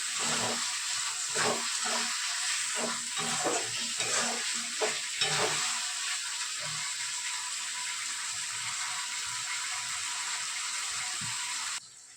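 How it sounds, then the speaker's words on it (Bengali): Fried chicken pieces go into a hot pan of sauce and are stirred, giving a steady loud sizzle with scraping stir strokes during the first half before it settles into an even frying hiss. "এবার এই মাংসগুলো, ভাজা মাংসগুলো দিয়ে দেবো"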